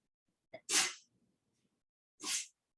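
A person sneezes twice during a lecture, a small intake of breath then a sharp loud sneeze, followed after a pause by a second equally sharp sneeze, in an otherwise quiet room.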